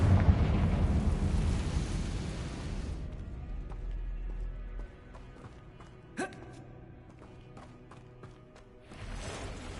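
A Confringo fire-blast spell explodes in Hogwarts Legacy with a loud, roaring burst that fades into a quieter stretch of crackling debris. A second blast swells up at the very end.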